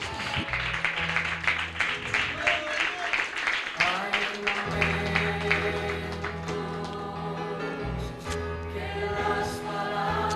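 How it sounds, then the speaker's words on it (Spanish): A Pentecostal church congregation applauds loudly and continuously over a pulsing, bass-heavy band playing throughout, with scattered voices mixed in. "Y dan un fuerte aplauso al Señor de alabanza."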